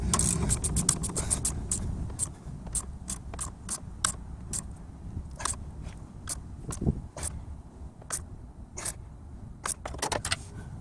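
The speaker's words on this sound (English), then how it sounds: "it put a little bit of tension on the strut stem so that the stem won't turn while I'm tightening up the nut" Rapid ratchet clicks from a wrench tightening the rear strut stem nut on an FJ Cruiser rear axle. The clicks come in quick bursts at first, then settle into slower, evenly spaced strokes over a low background rumble.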